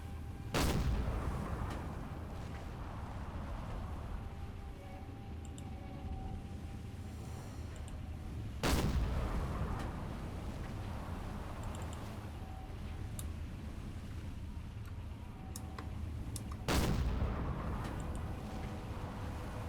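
A submarine deck gun fires at a ship in Silent Hunter 4: three heavy, sharp booms spaced about eight seconds apart, each ringing out briefly over a constant low engine and sea rumble, with no talk.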